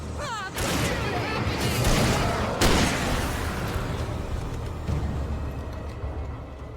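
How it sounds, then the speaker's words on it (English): Loud, rapid bursts of gunfire and booming impacts from the Alan Wake video game crowd the opening seconds, then trail into a rumbling wash, with voices talking over the shooting. "Ah, they're shooting!"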